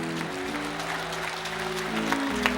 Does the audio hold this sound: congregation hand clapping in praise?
yes